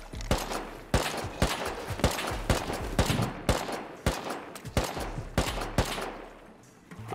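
Gunfire in the survival game Rust: repeated sharp shots, some in quick bursts and some spaced about a second apart, loud and close over a low rumbling background.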